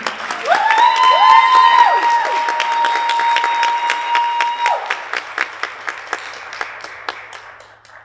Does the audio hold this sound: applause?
yes